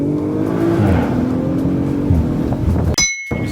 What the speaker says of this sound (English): this car accelerates really quickly